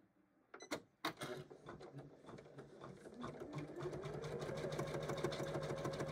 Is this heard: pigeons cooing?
no